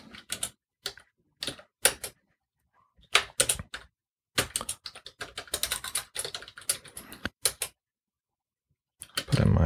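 Bursts of keystrokes on a computer keyboard while a root password is entered at a terminal, in quick irregular clusters with short pauses, close and clear, with no talking.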